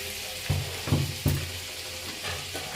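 Butter melts in a pan while chicken stew is being cooked. A soft, steady sizzle runs under three quick scraping stirs close together near the start, then settles into quiet frying with no talk.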